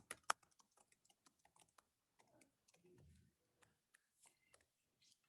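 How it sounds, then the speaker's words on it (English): Light keystrokes on a computer keyboard come as faint, irregular clicks in short bursts with brief pauses, close and quiet, with no voice. "typing this content in."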